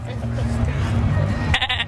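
A person imitates a goat's bleat backstage at Reading Festival 2014, with a short wavering bleat near the end over steady crowd and festival rumble.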